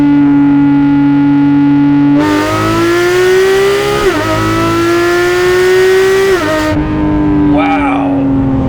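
A 991-generation Porsche 911 GT3 RS with a naturally aspirated 4-liter flat-six engine drones loudly from close by, then climbs through sharp high-pitched revving pulls in second gear before easing back down.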